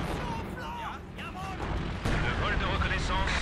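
Heavy artillery booms and gunfire from enemy forces in Company of Heroes 2, a dense rumbling barrage with sharp shots and whistling shells, loud throughout, with someone talking over it.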